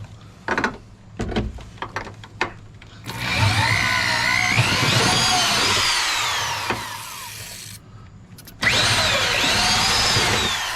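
A power drill bores out an 8mm screw inside a Ford truck door. Several short taps and bursts come first, then a loud, sustained whining drill run rising and falling in pitch, a brief pause, and another close, strong burst.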